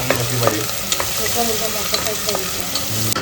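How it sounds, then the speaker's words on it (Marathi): Steady, close sizzling of whole spices frying in hot oil, with occasional small pops and crackles throughout, no voices. "फोडणी द्यायची तयारी चला तेल टाकलंय सगळ्यात पहिले खडे मसाले"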